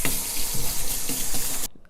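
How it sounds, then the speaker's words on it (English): Tap water runs steadily into a sink while hands are washed, a close, even broadband rush that stops abruptly near the end. "Okay, so I'm gonna wash my hands"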